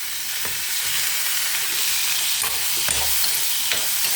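Two tomatoes frying in a pan with softened onions for a mango gravy, a steady broadband sizzle with occasional stirring scrapes, close and continuous throughout.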